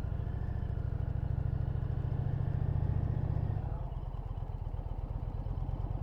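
An Indian Challenger motorcycle engine lugging along at low revs, around a thousand rpm, with a steady, deep pulsing thump throughout that eases slightly partway through, close and without talk.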